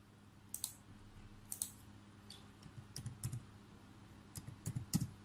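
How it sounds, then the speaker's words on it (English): Clicks on a PC while combining images into a single PDF come as light, sharp taps in small irregular clusters over a quiet background hum. "Click the Save button."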